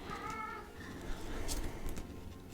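A pet cat makes strange noises in the background of a room where a tabletop card game is being played: a short, wavering meow-like call near the start, then quieter household ambience.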